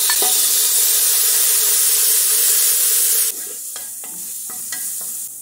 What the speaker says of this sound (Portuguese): Vou fritar o tocinho.